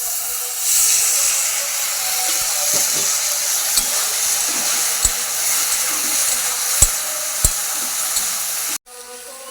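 Water poured into a hot pan of egg pasta raises a loud, steady steam hiss and sizzle, with a few sharp clicks of utensils, close up, ending abruptly.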